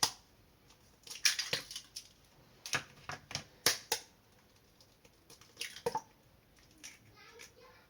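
Four eggs cracked one after another into a bowl of carrot walnut cake batter, with sharp close taps and cracks and brief wet drips between short pauses.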